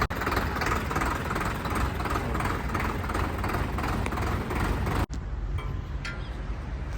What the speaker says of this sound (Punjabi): ਆਵਾਜ਼ ਬਹੁਤ ਘੈਂਟ ਆ ਬਾਈ ਟਰੈਕਟਰ ਦੀ